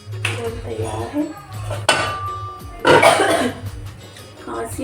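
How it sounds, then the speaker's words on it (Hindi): A few harsh, throaty coughs break out in a home kitchen, each one a loud, short burst, mixed with the clink of dishes and faint background voices. "खांसी अभी तक ठीक नहीं हुई संगवारी हो।"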